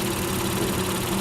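A Honda Earth Dreams 3.5-litre V6 car engine idles in a steady low hum with a faint mechanical buzz, close by and without talk.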